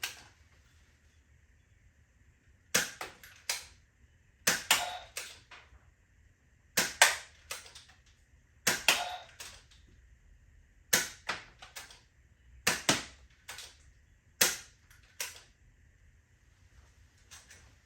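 A ZP-5 toy dart blaster revolver fires darts in quick clusters of sharp plastic snaps and clacks, repeated in short bursts separated by quiet pauses, close and fairly crisp.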